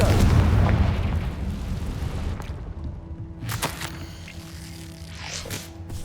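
Confringo fire spell cast in the Hogwarts Legacy video game, a loud rumbling boom that rolls off over a couple of seconds into lingering crackle and a few fainter impacts.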